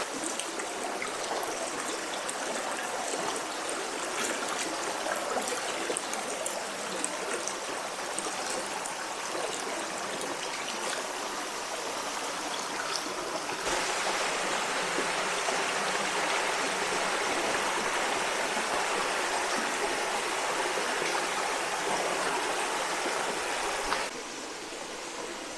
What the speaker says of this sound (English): let the water serenade us.